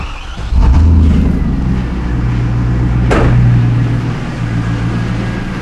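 A 2000 Pontiac Trans Am with a P0171 lean fault cranks briefly and fires, settling into a steady, close, rumbling idle with a faint rising whine, with no one talking.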